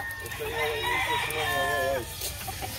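Fighting gamecocks crowing, a drawn-out harmonic crow rising and falling over about a second and a half, with clucks and a busy background of voices and farmyard noise.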